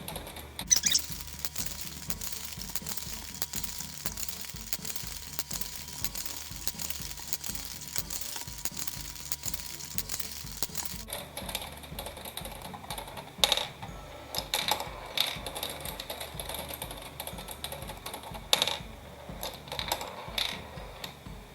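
Turing Tumble marble machine with plastic balls rolling down the board and a red lever flipping repeatedly, giving a steady stream of light clicks and rattles with a few louder knocks, no talking.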